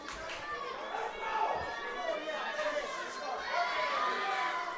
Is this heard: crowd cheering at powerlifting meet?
yes